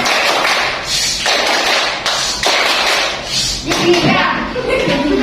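Classroom children clap a rhythmic 'tepuk diam' pattern, with sharp, evenly spaced clap bursts repeating through the clip amid steady room noise and voices.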